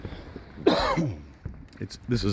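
A sharp, loud cough bursts out once, followed by a rougher throat-clearing sound, with brief speech-like murmuring near the end.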